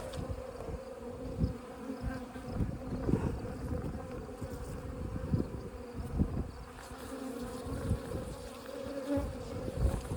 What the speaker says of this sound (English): I said about 200 bees in here.